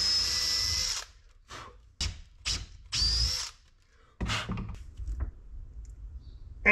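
Power drill driving screws into wooden fo'c'sle doors aboard a wooden boat, several short loud whirring bursts separated by pauses, close up with no talking.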